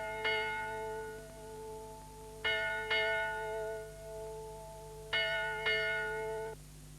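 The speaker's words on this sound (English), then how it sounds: "The bell's ringing." A bell rings out in pairs of clear, resonant strikes, each tone lingering and fading before the next pair, over a quiet background hum.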